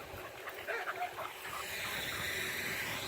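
A young puppy whimpering and yipping, soft high-pitched whines and short yips close by over steady hiss and background noise, fading into a continuous wash of noise in the second half.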